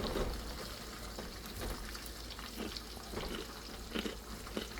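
Frozen mandu dumplings fry in hot oil, giving a steady crackling sizzle with scattered pops and spits, close and moderately quiet with no voices.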